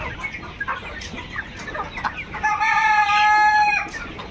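Chickens on a pullet farm holding about a thousand young hens cluck in scattered bursts, then a rooster lets out a loud, sustained crow near the end, with no talking.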